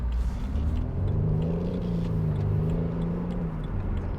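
A 2014 BMW Z4 sDrive28i M Sport, 245 brake horsepower, revs its engine in a steady, loud rumble heard from inside the car, with pitch rising and falling gently over a few seconds.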